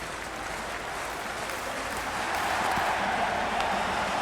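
Steady crowd applause and cheering fill a cricket stadium at the start of a T20 World Cup match between India and the USA in a cricket video game, a continuous wash that swells slightly louder partway through.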